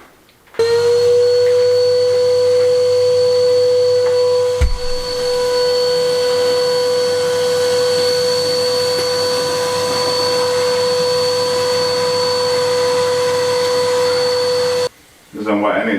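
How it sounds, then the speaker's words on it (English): A vacuum cleaner runs loud and close over an old stone wall with a steady high whine, its pitch shifting slightly as it works, cutting off near the end. "get the vacuum out, get it all vacuumed off"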